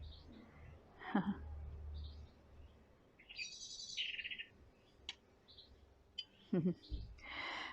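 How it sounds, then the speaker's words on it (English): Blackbird singing in an allotment: a few short, clear whistled phrases at moderate distance, separated by quiet gaps, with soft outdoor ambience and brief low thumps nearby. "There's our blackbird. Can you hear it on the microphone?"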